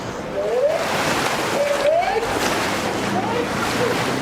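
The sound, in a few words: rowing boats splashing at the start of a race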